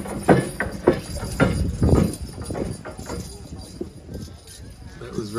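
A team of light horses pulling a weighted boat at a horse pull, hooves clip-clopping in a loose rhythm that fades out, with a voice talking over them.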